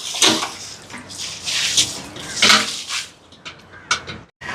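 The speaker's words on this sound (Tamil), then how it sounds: "கொஞ்சமாக தண்ணி ஊற்றி விட போடுறேன்டா" Small amounts of water poured out outdoors onto hot ground, giving several short splashing bursts of moderate loudness with brief pauses between them and no talk.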